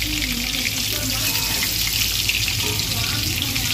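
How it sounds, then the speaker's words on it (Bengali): Fish sizzling in hot oil in a frying pan, a steady close broadband hiss of frying with a low hum underneath, continuous and without pause. "তো মাছটা এখন দেখতেই পাচ্ছ পুরো ভাজা হচ্ছে"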